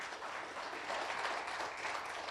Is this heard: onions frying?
no